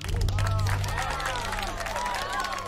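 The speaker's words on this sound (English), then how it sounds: "That's when you clap." An audience claps and cheers in a comedy sketch after the announcement of a director for a high school musical. The applause is a steady, dense wash with voices rising through it.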